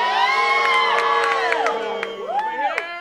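An audience team at an Epcot family game show cheers and shouts loudly together, with whoops and high excited voices in a continuous rowdy burst.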